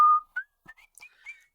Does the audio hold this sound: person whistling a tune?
yes